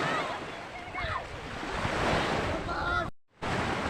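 Ocean surf off Quezon Province washing steadily with wind noise buffeting the microphone, a continuous broadband wash with brief faint higher tones and a short dropout near the end.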